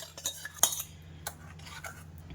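A spoon stirring mango pulp and milk in a pan, giving light metallic clinks and scrapes against the pan at an uneven pace, one sharp clink standing out.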